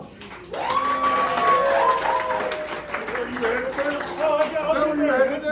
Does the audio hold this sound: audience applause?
yes